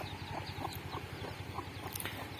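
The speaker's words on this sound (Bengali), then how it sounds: "আমাদের আমার ভালোবাসার মুরগি তাকে দেখতে খুবই সুন্দর দেখা যাচ্ছে" Soft, steady clucking from a chicken with a few faint higher calls, set against a constant low background hum.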